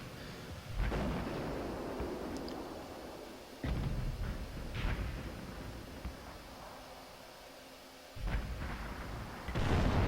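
Tank cannon fire in World of Tanks, a heavy booming shot with rumbling tail from a Tiger P, one loud blast followed by further thudding impacts and engine rumble.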